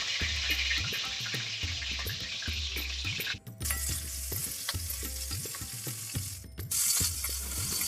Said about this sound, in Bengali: এইভাবে করে আমি সমস্ত মাছের মাথাগুলোকে ভেজে তুলে নেব